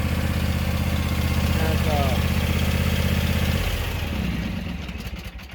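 A John Deere X350 riding lawn mower idles steadily at mid pitch for several seconds with someone speaking over it, the engine dropping and fading toward the end.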